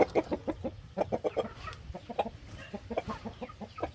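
A Buff Orpington hen clucks in a rapid, irregular series of short, close clucks and soft grunts, with busy farmyard ambience behind.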